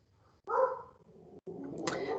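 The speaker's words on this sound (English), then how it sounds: "My dogs always wait until we record to bark." Dogs bark indoors, two short bursts of barking at a distance, fairly faint and with no speech.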